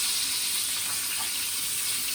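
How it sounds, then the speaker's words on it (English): Constant sizzling and crackling of chicken frying in a hot pan, a dense, even hiss with no talking. "I shall very gently add the chicken to it and leave it to bubble away"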